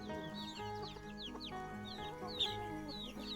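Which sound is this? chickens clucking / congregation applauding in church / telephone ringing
chickens clucking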